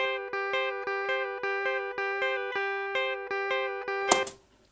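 A processed electric guitar hammers one verse chord of an album demo in a rapid, regular chugging pattern, roughly nine crisp strikes with ringing harmonics, closing on a short noisy squeal before fading to near silence.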